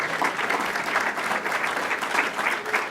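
An audience at an event with Chicago's city treasurer gives a sustained round of dense clapping from many people, steady and fairly loud, with no speech over it.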